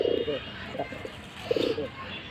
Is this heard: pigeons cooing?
yes